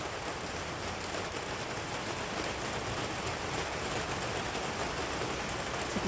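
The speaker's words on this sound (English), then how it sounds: "Thank you, water. Beautiful rain." Steady rain falls without pause, a dense, even hiss of drops on surfaces that holds the same loudness from start to finish, with no voices.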